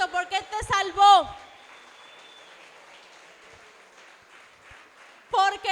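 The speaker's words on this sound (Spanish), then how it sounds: "Aplaude a Cristo porque Él te salvó." A church congregation applauds in a soft, diffuse patter after a preacher's loud words, the clapping lingering quietly for several seconds before his voice returns.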